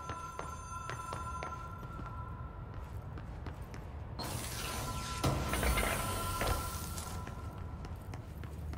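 A telephone rings in the video game Control, repeated electronic bell tones sounding amid footsteps and ambient game noise, with a louder rushing swell midway.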